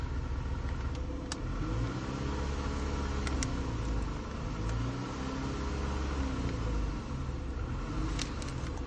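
A 2008 Toyota Camry engine idling with a throttle body fault: a steady low rumble heard close, with faint high clicks and ticks now and then, and no talking.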